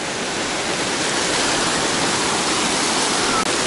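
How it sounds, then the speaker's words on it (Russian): A waterfall in Sochi roars close by, a dense, constant rush of falling water with no pauses or voices. "И вот мы прям уже рядом с водопадом."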